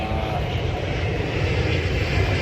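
Airliner landing at Heathrow Airport in London, a steady loud engine roar that swells slightly over a couple of seconds, fairly close and with no talk over it.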